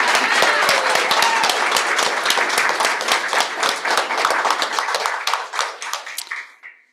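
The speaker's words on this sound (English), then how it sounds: "So let's just do one more round of applause because it feels good." Audience at an honors convocation gives a sustained round of applause, dense clapping from many hands that holds steady, then thins out and fades to silence at the end.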